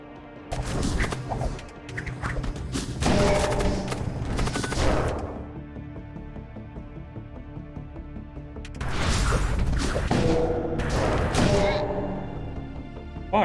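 Ship weapons firing in the space combat game Void War, dense bursts of heavy gunfire and impacts in two volleys separated by a quieter stretch of low rumbling hum.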